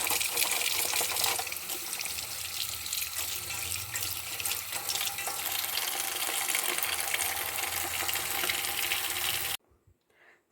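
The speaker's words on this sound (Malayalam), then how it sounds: "നന്നായിട്ട് നമുക്ക് വാഷ് ചെയ്തെടുക്കാം." Running tap water splashes steadily into a sink as drumstick leaves are rinsed for a Kerala-style curry, a close, continuous broadband wash that cuts off abruptly near the end, leaving brief quiet handling noise.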